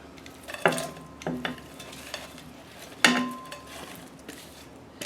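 Beef, onions and salt pork get stirred in a pot for beef bourguignon, a spoon scraping and clanking against the metal in several distinct strokes over a soft background sizzle.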